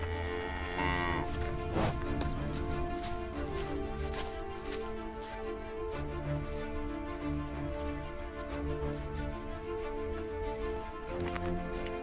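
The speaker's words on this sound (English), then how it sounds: "Look at the cows." Cows moo in an animated Blender horror short film, with a few drawn-out lowing calls over a layered, tonal outdoor backdrop, steady and moderately loud, with no voices.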